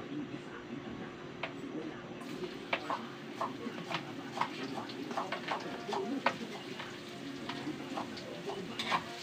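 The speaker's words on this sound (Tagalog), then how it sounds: "pag mainit na ang ating mantika, atin na po ilalagay ang bawang" Garlic dropped into hot cooking oil gives a steady, gentle sizzle with scattered crackling pops, quiet and close, while a bird coos in the background.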